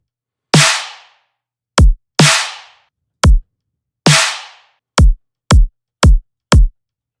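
Electronic kick and snare drum hits processed with a transient shaper on a bass-music remix group, alone in sequence: snappy snare bursts with decaying tails alternating with short punchy kicks, nine hits in all, loud and dry.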